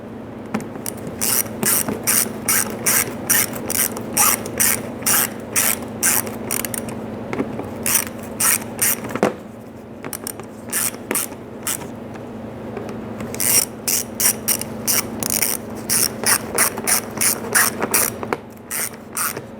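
Ratchet clicks rapidly in repeated bursts while snugging down bolts on the front impact bar of a 2005-2010 Chrysler 300, close and loud, with short pauses between strokes and no talk.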